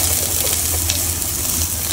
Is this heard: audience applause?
no